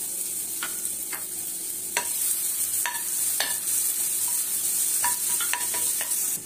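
Finely chopped garlic sizzles steadily in a hot pan for dahi chicken masala, a constant bright frying hiss broken by intermittent metallic clinks and scrapes of a spoon stirring, close up.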